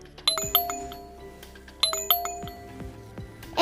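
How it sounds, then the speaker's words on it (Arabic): A doorbell chimes two times, each a bright two-tone ding-dong ringing out clearly and alone, with a short pause between the pairs. "مين اللي بيضرب الجرس؟"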